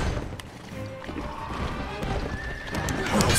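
A horse whinnies amid busy game-style sound effects in the video game Wo Long: Fallen Dynasty, with hoof clatter and thuds layered over a steady background.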